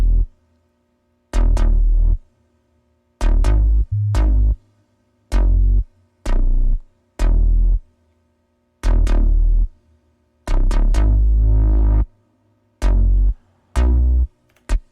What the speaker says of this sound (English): So the bass line sounds like this.